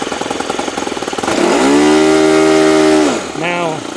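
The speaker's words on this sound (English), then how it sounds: "Now, when I give it full throttle from idle, it's not dying." A Cosmic Wind go-kart engine, just re-tuned richer on the low-end carburettor screw, snaps from idle to full throttle, rising into a loud steady buzzing drone that holds for about two seconds, then drops and blips briefly again.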